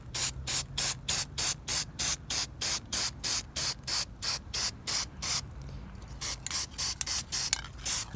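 Aerosol spray paint being applied to a Comanche 152ci intake manifold for a 1965 Scout 800, heard as a steady series of short, close hissing bursts in a regular rhythm, with a brief pause before the bursts resume.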